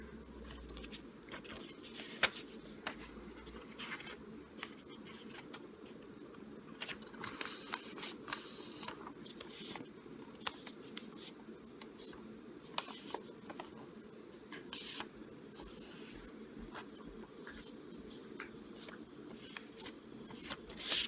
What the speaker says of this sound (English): Then you want to fold it diagonally in half again.